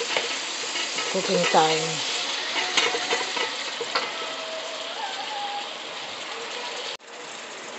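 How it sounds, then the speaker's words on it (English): Sirloin beef sautéing in a pan: a continuous close sizzle with scraping and stirring clatter from a utensil, and a few short spoken words over it. "So here, we're sauteing the beef."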